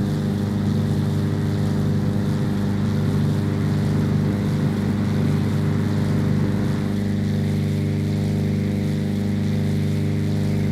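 A single-engine airplane's engine runs at full power in a flight simulator game, producing a loud, constant droning hum with steady tones that drop slightly partway through.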